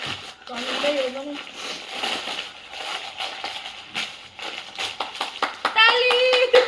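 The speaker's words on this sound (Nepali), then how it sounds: "ताली" A few bursts of hand clapping among women friends at a colour-themed gift exchange, mixed in with lively chatter and excited voices.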